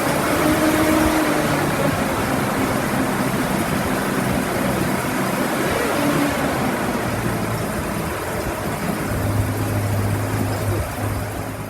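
A Toyota FJ45 engine runs steadily after sitting unused for several years, a continuous close rumble with a low idle hum and broadband noise throughout, no voices.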